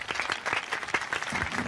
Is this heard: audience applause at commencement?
yes